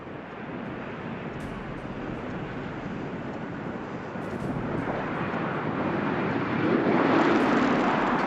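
Space Shuttle Discovery approaching to land at Kennedy Space Center: a wide, windy rushing roar that swells steadily louder toward the end, with no talking.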